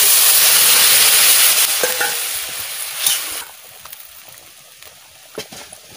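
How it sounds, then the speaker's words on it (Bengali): A curry is poured into a pan of fried spice paste: a loud frying hiss that dies away after a few seconds, leaving quieter bubbling and a few sharp scrapes of stirring. "মশলা ভাজা হয়ে গেছে, আমি তরকারি ঢেলে দিচ্ছি।"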